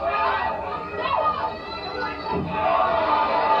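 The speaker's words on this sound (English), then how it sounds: "The crowd cheers." A wrestling arena crowd at a women's wrestling show roars and chatters continuously, a dense wash of cheering heard beneath a commentator's voice.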